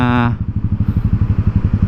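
A Yamaha SR400 single-cylinder motorcycle, freshly overhauled with a Wiseco 88mm piston, idles nearby with a loud, steady, deep thumping beat. A brief tonal sound is heard at the very start.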